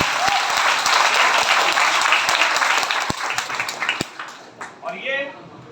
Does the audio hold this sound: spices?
no